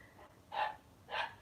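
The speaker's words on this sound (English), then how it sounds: "that's Danny barking at Godric" Danny the dog barks twice at another dog, Godric, in a home setting; two fairly loud separate barks about half a second apart, each short and sharp, with no talk over them.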